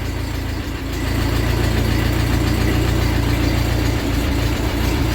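A tractor engine idling while its choke is eased off: loud, steady, close rumble with a low throbbing pulse that holds constant, a slight rise in level after the first second.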